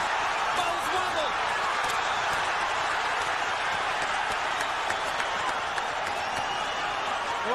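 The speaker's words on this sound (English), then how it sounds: "Crowd lights up as Golota lands a combo" A packed arena crowd at Madison Square Garden roars steadily through a heavyweight boxing bout between Andrew Golota and Riddick Bowe, a dense, unbroken wall of cheering with no clear gaps.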